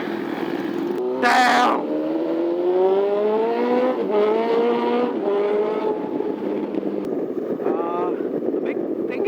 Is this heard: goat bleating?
no